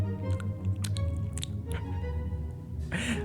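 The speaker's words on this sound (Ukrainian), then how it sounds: "І завдяки саме муцину слина звучить саме так." Wet, sticky squishing sounds come in short bursts, like saliva being worked around in a mouth, close up and fairly quiet, ending in a brief hiss.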